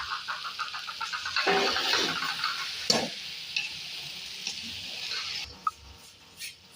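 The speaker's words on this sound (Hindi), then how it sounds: "इसको मैं अच्छी तरह मिक्स करूँगी।" Bhindi gosht with ground garam masala and chillies stirred in a cooking pot, a spoon scraping and clinking against the metal over a soft sizzle, in close, uneven strokes with a few sharper knocks.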